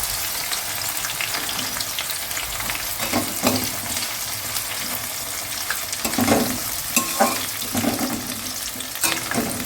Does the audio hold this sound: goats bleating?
no